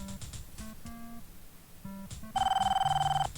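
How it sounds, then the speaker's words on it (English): A telephone rings in the video game Police Quest: Open Season, a repeating electronic trill that grows louder near the end, heard alongside game music tones without talking. "Is that our phone?"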